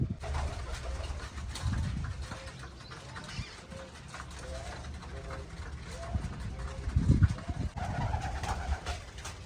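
Pigeons at a small poultry farm coo in low repeated calls nearby as they gather at scattered grain, while a person talks over them.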